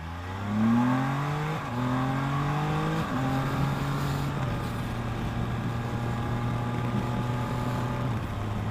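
A Can-Am Spyder F3-S three-wheeler riding down a back road, its engine pitch climbing through several gear shifts as it accelerates, loud and close, with steady wind and road noise throughout.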